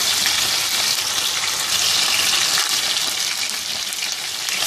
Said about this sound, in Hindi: अब इसमें ये चिकन शामिल कर दें और इसको लाइट गोल्डन फ्राई करें।